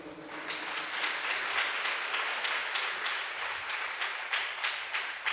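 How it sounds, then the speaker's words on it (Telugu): A church congregation at a prayer meeting claps loudly together, a sustained crowd of hands beating a rhythmic wash of applause from start to finish, a little distant and without speech. "ఒకసారి గట్టిగా చప్పట్లు కొట్టండి"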